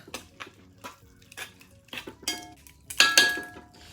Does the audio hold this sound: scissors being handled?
no